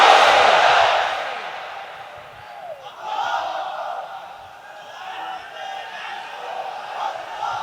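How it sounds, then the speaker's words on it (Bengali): A crowd at a religious sermon roars a loud collective takbir chant of Allahu Akbar, swelling at once and then fading into scattered voices and a murmuring hall. "তাকবীর পড়ুন, লিল্লাহে তাকবীর।"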